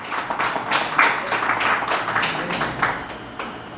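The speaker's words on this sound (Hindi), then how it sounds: "मेहमानों के लिए ज़ोरदार तालियां होनी चाहिए।" Guests at an Urdu poetry gathering are greeted with scattered, moderately loud clapping, uneven and patchy, with individual claps standing out through the few seconds.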